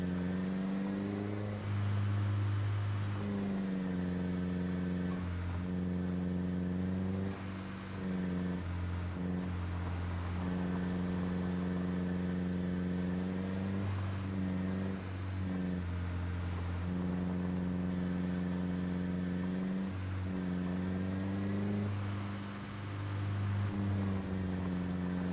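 Steady engine drone from a vehicle in a modded Vanilla Plus game session, a continuous loud harmonic hum that shifts pitch now and then as it revs and settles, running alone throughout.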